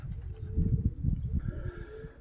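Racing pigeons in a loft give soft, low, throaty coos in quick repeated bursts, close by and fairly quiet.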